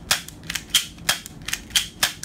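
An airsoft BB handgun, a pistol for ages fourteen and up, has its slide racked back and snapped forward repeatedly, six or so sharp close metallic-plastic clacks in a quick irregular rhythm with no voices.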